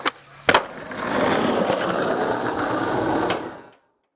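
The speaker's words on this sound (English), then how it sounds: "there's a way to move on your skateboard without pushing? Well, there is, and it's called Tic Tacking" Skateboard wheels roll in a continuous, fairly close gritty rumble during a tic tac trick, opened by a couple of sharp board clacks and fading out after about three seconds.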